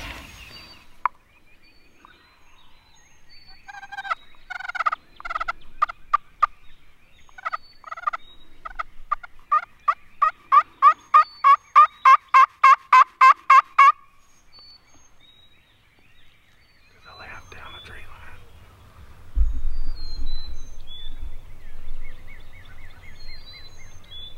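Wild turkeys gobble from a roost about 75 to 80 yards away, rapid rattling gobbles repeated in a rhythmic series, moderately distant over a quiet outdoor backdrop, with some low rustling near the end.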